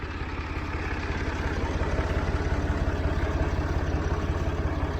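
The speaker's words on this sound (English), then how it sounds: "Massey Ferguson 50 is just a really excellent chore tractor." A Massey Ferguson 50 chore tractor on a hay farm idles close by, its engine giving a steady low chugging pulse that rises slightly in loudness, with no talk over it.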